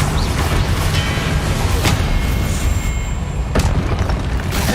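A spell burst in the Hogwarts Legacy video game, heard as a dense, loud, sustained booming blast with a couple of sharper cracks partway through and no talking.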